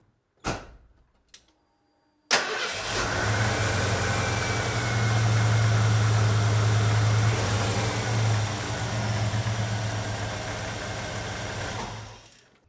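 A Ford V8 truck engine, 1985-1996 Bronco or F-Series with upgraded fuel injectors, cranks briefly, then catches and settles into a loud, steady, deep idle with a low rumbling hum that holds for about ten seconds.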